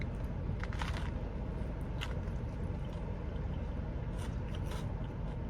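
Crunchy bites of a fried wonton-style roll with sprouts and lettuce, a few crisp bursts over a steady close-up rustling background, no talking.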